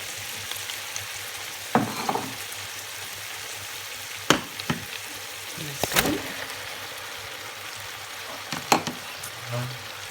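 Meat fries in a pot, a soft sizzle under sharp scattered clinks and scrapes of stirring, with a quiet bubbling patch near the end.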